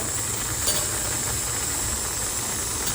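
Black masala, turmeric and chili powder sautéing in a hot pan in a home kitchen, a loud, dense, continuous sizzling hiss that stays steady throughout without any voices.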